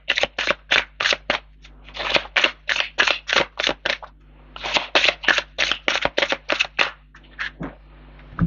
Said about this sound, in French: Je vais recouvrir ces trois cartes.